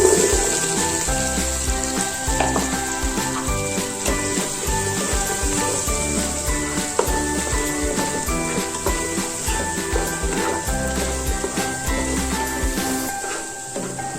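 Shallots frying in a pan for a Kerala-style chicken curry: a steady, continuous sizzle that lasts throughout, with a tonal music bed underneath and no talking.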